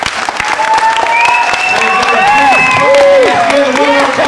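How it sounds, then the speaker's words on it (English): Audience applause with cheering after a singing performance, a steady dense clapping wash lasting throughout, with whoops and high voices layered over it. "Give all three of them a round of applause."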